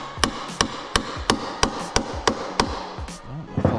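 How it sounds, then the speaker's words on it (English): Sharp metallic hammer blows land on a screw on a wrecked Kawasaki ZX12R motorcycle, about nine evenly spaced strikes ringing out close and loud, followed by a few scraping knocks. "And then just smash it with a hammer."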